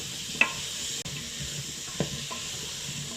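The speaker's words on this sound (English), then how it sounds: "Okay, so it's searing away." Onions sear with a soft, steady hiss and sizzle in an open Milex pressure cooker, fairly faint, with a few light scrapes of stirring and no voices.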